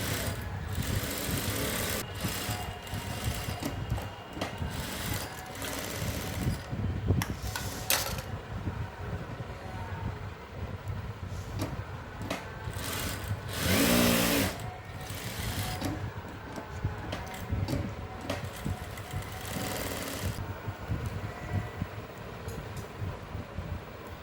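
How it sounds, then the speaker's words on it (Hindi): Sewing machine running in steady bursts while stitching the sleeve edge of a blouse, a continuous mechanical whir with short pauses and a louder stretch near the middle, with no talking. "फटाफट मशीन से सिलाई लगा लेते हैं"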